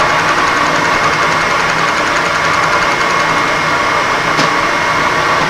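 A machining tool steadily making cutting passes on a clamped part, a constant loud mechanical drone with a faint rhythmic texture and one brief sharp tick near the end.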